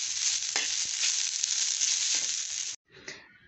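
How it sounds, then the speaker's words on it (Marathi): Ginger, garlic and chili sautéing in hot oil for chicken rassa, a loud, continuous close sizzle that cuts off abruptly and then briefly flares again. "आलं, लसूण, मिरची हे पण तेलावर चांगलं परतून घ्यायचं"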